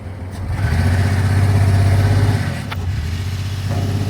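A car engine revs hard and steadily while the vehicle sits stuck with its tyres spinning in mud on a village dirt road, the roar swelling, easing, then rising again, loud and close, with no talk over it.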